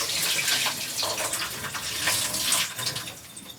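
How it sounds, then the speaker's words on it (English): Water poured off a bowl of soaked cashews, a steady close splashing pour lasting a few seconds with no talking. "So let me pour off the water."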